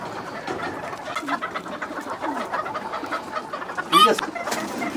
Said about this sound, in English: the name of this breed is Malaysian Serama